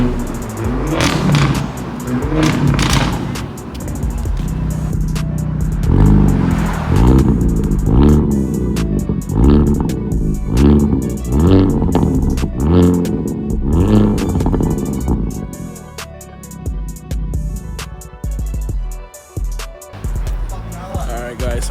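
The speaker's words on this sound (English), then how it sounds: "We just finished installing the exhaust, the new exhaust on it" A Hyundai Elantra N with a freshly installed aftermarket exhaust revs repeatedly, rising and falling in loud, rhythmic bursts before settling; excited voices talk over the engine throughout.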